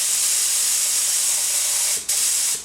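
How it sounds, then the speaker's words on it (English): A paint spray gun fed by compressed air at 29 PSI sprays a gimbal housing, making a steady, loud hiss that cuts out briefly near the end before resuming. "I've got my spray gun set to 29 PSI when I'm shooting"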